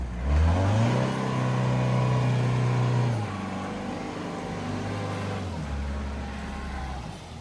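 A four-wheel-drive car stuck in swamp mud revs its engine hard and steadily, the pitch dropping after a few seconds and then holding at a lower, strained drone, loud and close throughout.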